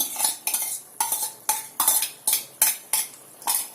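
A spoon stirs egg into curry gravy in a pan, scraping the metal in about eight regular strokes roughly half a second apart, each one bright and close, with a faint sizzle underneath.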